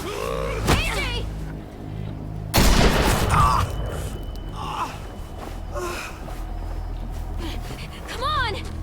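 Gunfire rings out in Telltale's The Walking Dead final season video game: a sharp shot early on, then a louder, harsher burst near the middle, over a busy game soundscape with gasps and voices.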